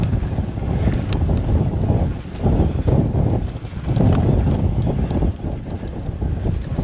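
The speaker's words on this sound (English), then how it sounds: "Bloody hell, this wind is proper." Strong, gusty wind roaring across a mountain bike trail, heavy low rumbling buffets against the microphone that rise and drop in waves throughout, close and loud with no voices.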